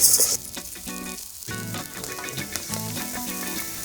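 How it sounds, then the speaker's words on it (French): Rice and chopped shallots sweating in olive oil in a pan, giving a continuous close, crackling sizzle with a brief brighter hiss at the start. "Je fais suer le riz."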